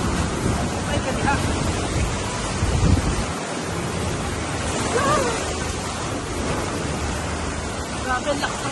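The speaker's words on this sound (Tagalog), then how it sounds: "Grabe, lakas ng alon" Heavy surf roars continuously, with strong ocean waves crashing close by near a boat crossing and wind buffeting the microphone throughout.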